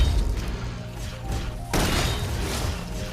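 Sci-fi gunfire from the game Love & Deepspace: a low, muffled rumble of impacts that erupts into a loud, dense burst of bright crackling fire midway, sustained to the end.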